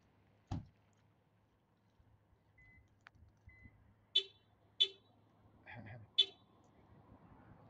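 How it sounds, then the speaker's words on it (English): Short electronic alarm beeps chirp several times in a quiet space near a school district office, faint tones mixed with a few thumps and distant murmured voices. "How many times does the alarm have to beep?"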